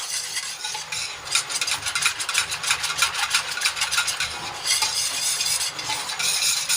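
Curd starter being stirred into milk in a pot, a steady swishing and scraping of a spoon that carries on without a break for several seconds, close and fairly loud, with no voices.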